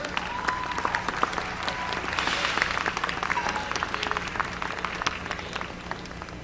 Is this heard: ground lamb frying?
no